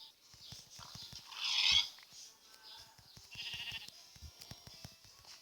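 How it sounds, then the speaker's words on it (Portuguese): Sheep bleat in two drawn-out, wavering calls, the first louder and nearer, with soft clicks and rustles in between. "Aqui dá que nós achamos umas ovelhas"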